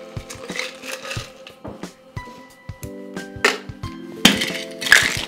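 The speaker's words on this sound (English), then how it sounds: "And then fill your Boston glass with ice." Ice cubes tumble into a Boston shaker glass for a strawberry gin fizz, making irregular clinks and cracks that grow denser and louder toward the end.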